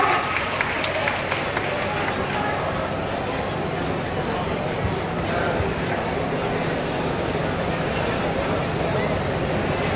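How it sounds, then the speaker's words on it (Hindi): Audience at a public ceremony in Bela attended by a state minister gives hearty applause: continuous, dense clapping from a large crowd, with some crowd noise mixed in, holding steady for ten seconds. "एक बार पूरा जोरदार तालियां।"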